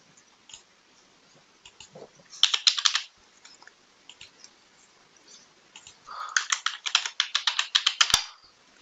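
Login details are typed on a computer keyboard in two close, quick bursts of crisp key clicks separated by a quiet pause, with no talking.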